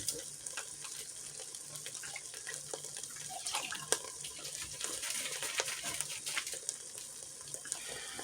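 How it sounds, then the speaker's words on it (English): Water runs steadily from a kitchen faucet with a soft, continuous hiss and splash, fairly close, with faint clinks and background noise throughout. "But I'm going to add a little bit of water."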